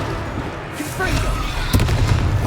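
Confringo fire spell from Hogwarts Legacy, a fiery blast with a rumbling burst and a sharp crackling crack partway through, loud and close amid game voices.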